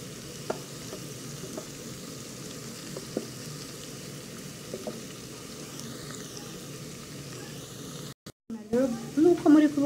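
Onions fry in oil in a pan, with soft sizzling and scattered small pops and crackles throughout, then a brief cutout followed by louder clattering stirring sounds.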